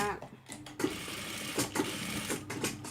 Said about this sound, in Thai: เส้นที่หนึ่งนะคะเราวางแล้วเราเย็บไปเลย